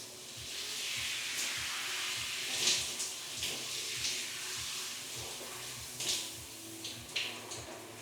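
A shower runs steadily while someone wets their long hair, a continuous close hiss of spraying water broken by a few soft splashes and knocks, with no talking.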